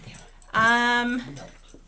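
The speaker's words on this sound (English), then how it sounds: "This dog is not cooperating. He wants to play." A playful dog lets out one drawn-out whimpering whine, close and fairly loud, lasting under a second in a quiet kitchen with a wood stove.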